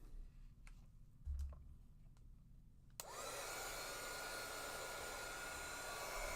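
Heat tool blowing hot air over a craft mat, switched on partway through and then holding a steady, loud, broadband roar alone. Before it starts there are faint clicks and handling sounds.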